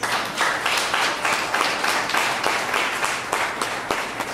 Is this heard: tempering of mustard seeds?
no